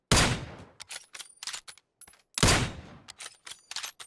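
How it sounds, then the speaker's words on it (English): Kar98 bolt-action rifle fired in PUBG after a new patch: two loud, sharp gunshots about two seconds apart, each trailed by rattling echoes and smaller cracking reports, with no talk over them. "And listen to the Kar98."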